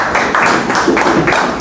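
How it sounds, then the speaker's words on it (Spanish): A church congregation clapping together, a steady loud burst of many hands with a faintly pulsing rhythm, heard up close. "Puede tomar su asiento dándole un fuerte aplauso al Señor Jesucristo."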